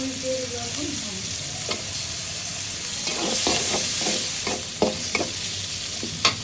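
Spice paste frying in a pan: a continuous hiss of sizzling oil, joined midway by a run of quick scraping stirs that repeat unevenly, heard close with no talking.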